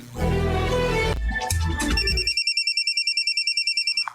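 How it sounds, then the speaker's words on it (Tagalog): A cellphone rings with a rapid, repeating electronic trill that comes in after a burst of louder, mixed noise. The ring is clear and steady, with no voices over it. "Oh, ang cellphone ni Adora"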